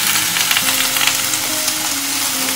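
Food sizzles loudly in a hot pan while being slowly stirred, with steady crackling frying noise and occasional scraping of the utensil, close up.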